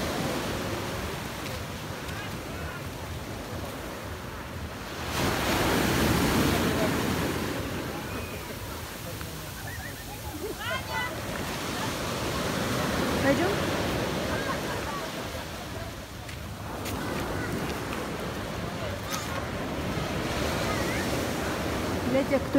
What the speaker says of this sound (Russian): А море-то штормит.